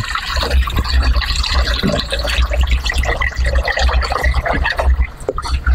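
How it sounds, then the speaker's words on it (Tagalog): Water pours and splashes into a cooking pot at close range, a continuous bubbling gush with small drips, loud and nearly unbroken throughout. "Dagdag tubig."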